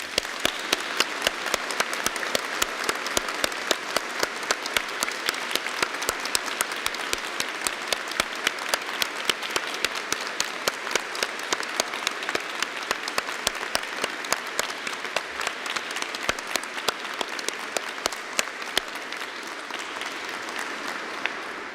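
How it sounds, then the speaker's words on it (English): An audience at an Open University degree ceremony in Ely gives graduates a long, sustained round of applause, dense and steady, with many hands clapping evenly throughout. "let's start today's ceremony by giving all of our amazing graduates a huge round of applause"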